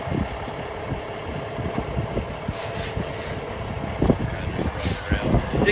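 A 2013 Peterbilt 579 automatic day cab truck idles steadily after starting, a close, rough diesel rumble with irregular knocks and a few short hissy bursts of air release.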